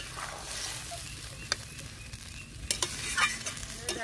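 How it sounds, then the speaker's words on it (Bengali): Katla fish kaliya curry in a pan with water being stirred, a steady sizzle broken by a few sharp utensil scrapes and clinks against the pan, close and alone. "ভালো করে একটু নেড়ে চেড়ে দেখি।"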